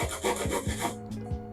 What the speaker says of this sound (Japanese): この小さいノコギリで ちょっと広げてから大きなノコギリで切っていきます。